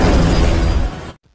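An alien spaceship explodes after a nuclear strike to its core in a film: a single loud, dense blast rumbles for just over a second, then cuts off abruptly into near silence.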